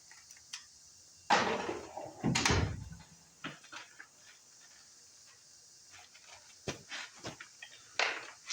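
Scattered knocks, clunks and rattles of someone rummaging through a drawer, with two louder bursts early on and quieter shuffling afterward.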